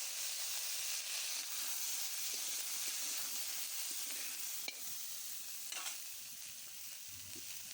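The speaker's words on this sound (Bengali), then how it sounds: "এবার 5 ফোড়ন আর শুকনো লঙ্কার ফোড়ন দিলাম, দিয়ে কফিগুলো খুব ভালোভাবে ভেজে নেব।" Cauliflower florets and potatoes fry in oil with five-spice and dried chili, giving a steady close sizzle and hiss throughout, with occasional scrapes and clinks of a spatula stirring the pan.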